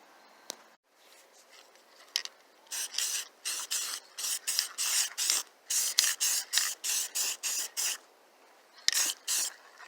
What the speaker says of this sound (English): So now we're going to sand it down and get it ready for prime.